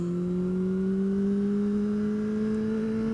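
A Honda CBR600RR sport bike engine holds a loud, close, steady revving tone that climbs slowly and smoothly as the throttle is twisted, with no break in the sound.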